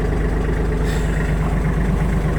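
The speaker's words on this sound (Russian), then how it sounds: "двигатель работает ровно, обороты поднимает, опускает тоже ровно и хорошо" A Kubota GL32 tractor with a cab runs at a steady idle, its engine a continuous low rumble filling the cab from close by, with no voices over it.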